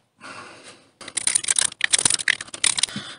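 A utility knife scraping bark off a piece of wood, close dry rapid scratching strokes in quick irregular bursts after a softer opening rasp.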